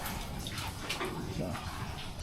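Water gushes steadily and strongly at a campground toilet in a tea plantation area near Malang, a close, continuous rushing splash.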